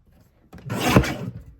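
Purple paper strip trimmed for a baby page kit, a single soft rasping cut swelling and fading over about a second, close and fairly quiet, with no talking.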